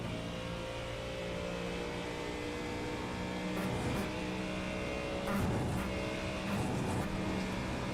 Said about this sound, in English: Full throttle all the way, and then Sonny on the brakes.